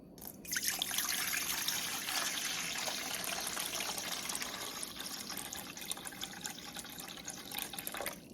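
Warm water pours in a steady trickling stream into a mixing bowl for sourdough bread dough, running continuously for several seconds, close by and fairly soft.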